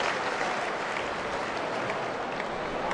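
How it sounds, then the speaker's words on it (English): A big crowd at a night baseball game in a stadium claps and cheers in a dense, continuous wash of applause, steady and fairly loud for the whole stretch. "A big crowd, and apparently a young crowd here tonight."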